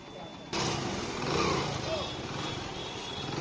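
A Hero Honda Splendor motorcycle, just serviced, pulls away for a test drive, its engine starting abruptly and running steadily at close range, a broad hum with a small rise in revs partway through.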